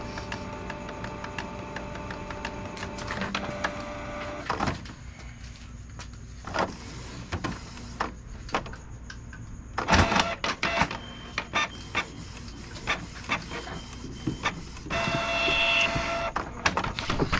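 A Canon G2010 inkjet printer runs a head cleaning cycle, whirring motors and carriage movement starting and stopping with clicks and clunks, a steady mechanical hum between bursts, close and moderately loud.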